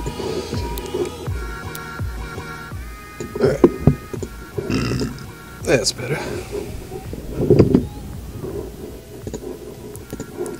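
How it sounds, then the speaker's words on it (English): A person burps a few times, short throaty bursts that stand out over steady background music and game sound during a Grand Theft Auto V gaming session. "Excuse me for the burp."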